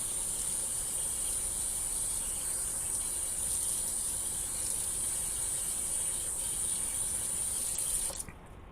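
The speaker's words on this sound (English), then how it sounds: "I'll scrub up several potatoes. Get those washed really good." Water runs from a kitchen tap into a sink as potatoes are scrubbed and washed, a steady faint hiss and splash that cuts off abruptly near the end.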